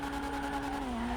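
A Jester Classic sports car in GTA 5 launches from a standstill with its tires spinning, steady engine drone with a faint squeal underneath, close and unbroken for about a second.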